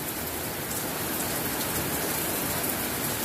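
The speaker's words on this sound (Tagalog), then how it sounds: "Talagang totoong ulan." Heavy rain pours down in a dense, constant hiss of drops striking surfaces, loud and unbroken from start to end with no voices.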